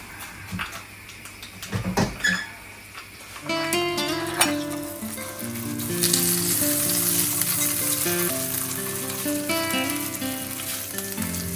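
Sesame seeds sizzle and crackle in a hot pan for Kathiyavadi handvo, starting with scattered pops and utensil clinks, then swelling into a sustained, close frying hiss with bright crackling.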